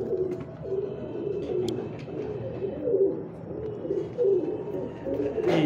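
Breeder pigeons coo on a rooftop loft, soft repeated throaty calls from several birds close by in a continuous overlapping murmur.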